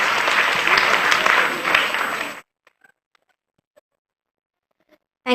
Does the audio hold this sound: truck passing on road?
no